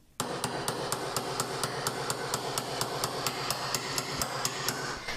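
A planishing hammer strikes a forged jewelry ring on a ring mandrel, ringing metallic blows in a steady, even rhythm of about four per second, close and alone.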